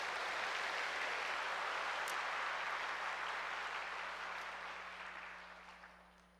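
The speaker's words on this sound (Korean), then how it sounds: "그동안 감사했습니다 하는 마음으로 우리 크게 박수해 주시기 바랍니다." A church congregation gives a departing conductor a long, even round of applause that fills the room at moderate distance and then fades gradually toward the end.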